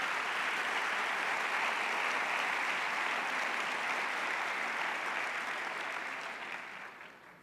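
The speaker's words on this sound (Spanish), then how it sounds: "Si queréis les podemos dar un aplauso no a ellos," Audience at an education congress applauding, a steady wash of many hands clapping that holds evenly, then thins and fades toward the end.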